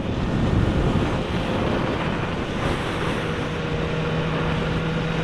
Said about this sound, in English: That's really, really fucking windy as well.